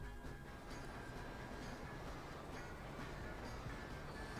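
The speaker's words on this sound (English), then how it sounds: "And get back in the train" A quiet, continuous rumble of a video game train rolling along the tracks, with faint rhythmic clatter and no voices.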